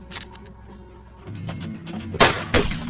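Gunshots ring out in a film scene, two sharp loud bursts late in the clip after a stretch of quieter background sound and rumble.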